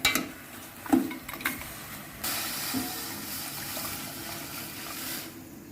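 Water pours into a pot of browned pork ribs for stewing, a steady close rushing and splashing stream lasting several seconds after a few clanks of cookware.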